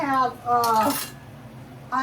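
Pans and kitchen items clatter and clink in a short burst of handling while a person talks over the noise.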